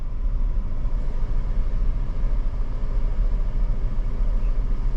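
A car engine runs in first gear during a beginner's driving lesson, giving a steady, low, close rumble with faint road noise and no voices.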